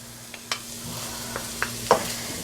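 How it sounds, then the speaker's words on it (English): The tough core pieces of cabbage are tipped into a pan of caramelized onions, giving a few soft clatters and a light sizzle, with brief stirring scrapes over a quiet hum. "I'm gonna add all that hard core part of the cabbage"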